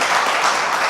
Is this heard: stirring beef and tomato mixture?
no